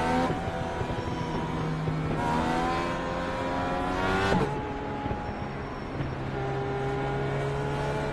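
A Dallara IR18 Indy race car at Indianapolis Motor Speedway in the iRacing sim roars with a continuous high-revving engine drone whose pitch dips and climbs through gear changes, loud and close with no talking.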